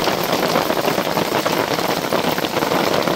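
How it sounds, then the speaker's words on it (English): Hail falls hard during a storm onto an awning above Telluride, Colorado, a loud, dense, steady drumming and hiss that continues throughout with no voices. "it is hailing like crazy"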